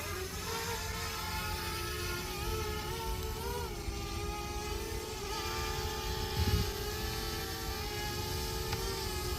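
A DJI Mavic Mini drone whines steadily as it flies against the wind over bridges in Edmonton, a faint, continuous tonal buzz with slight pitch wobbles.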